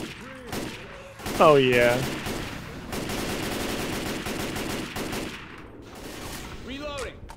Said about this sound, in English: I'm gonna shoot a few more times, though